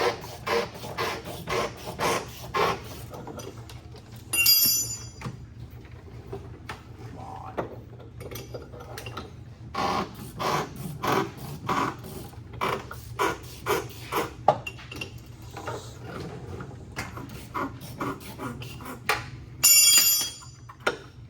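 Ratcheting wrench cranking under a 1965 Ford Thunderbird during rear axle and leaf spring work, a steady series of short metallic clicks and clanks repeating close by, with occasional brighter metal rattles and no talk.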